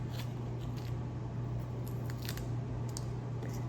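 Papery outer skin being peeled off a halved onion in a home kitchen, faint crisp crackles and small tearing snaps over a steady low hum, with no talking.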